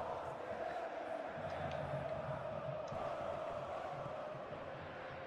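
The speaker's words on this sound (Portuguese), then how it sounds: "tem os gritos de torcida" Football stadium crowd chanting in Football Life 2024, a dense, moderately distant roar of many voices singing together, swelling and fading slightly over a few seconds.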